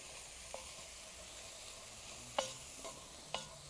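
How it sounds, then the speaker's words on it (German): Soft, steady sizzling of onions and meat frying in a Dutch oven, with a few light scrapes and knocks as it is stirred. "Also Zwiebeln, die werden natürlich auch noch angebraten, also mit dazu."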